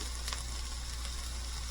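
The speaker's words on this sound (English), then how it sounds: "Throw our onions in there. We've got regular onion and some scallions." Chopped regular onions and scallions sizzle steadily in a hot pan for a Hungarian goulash, a soft, even crackle without any voices.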